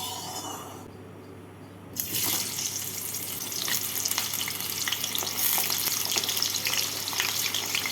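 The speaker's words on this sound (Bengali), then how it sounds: "তেলটাকে ভালো করে গরম করে নিয়ে এর মধ্যে আলু আর গাঠি কচুগুলোকে ভেজে তুলে নেব।" Potatoes and taro hit hot white oil in a pan. After a brief quiet, a loud, dense sizzle rises and stays, crackling with frequent spatters.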